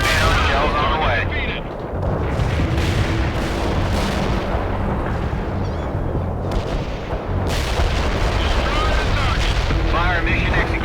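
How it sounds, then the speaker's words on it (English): Artillery shells land in the World in Conflict battlefield as a continuous roar of heavy booms and rumbling blasts, with voices talking over the barrage throughout. "Coordinates locked down. Shells on the way."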